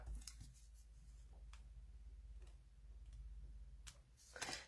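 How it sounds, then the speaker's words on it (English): Quiet snips of scissors cutting paper, a few scattered crisp clicks and slices over a low background hum. "And then I'm going to take my scissors"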